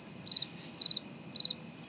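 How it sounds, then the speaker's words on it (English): A cricket sound effect gives three evenly spaced bursts of rapid, high chirping, each a quick trill of four pulses. The chirps are clear and alone against near silence. "you'll likely hear crickets."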